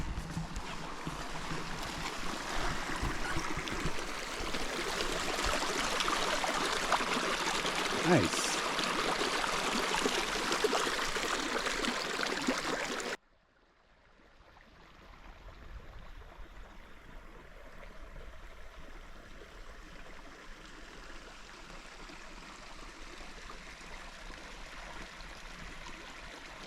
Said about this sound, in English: Nice creek too beside it.